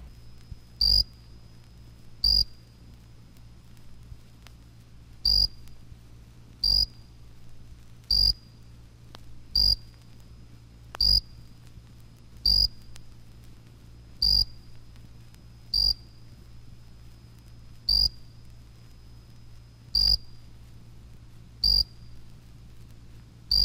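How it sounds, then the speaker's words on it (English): A jumping bush cricket (Orocharis saltator) sings clear, high piping chirps at a steady slow rhythm, roughly every one and a half seconds, over a faint low hum. "The jumping bush cricket, Orocharis saltator, is a late singer, beginning in mid-August."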